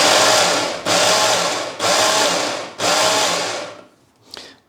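An electric mixer whirs loudly through eggs for pancake batter in four even bursts of almost a second each, pausing briefly between them, then stops with a faint clatter.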